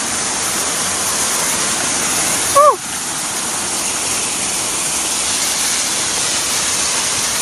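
A hidden waterfall fills the clip with a steady, close rush of falling water. About midway, a brief sliding chirp, like a short vocal sound, cuts through the roar.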